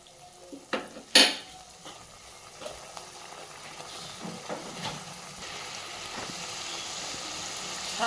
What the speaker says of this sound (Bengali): মশলাটা ভালোভাবে কষাই দিব।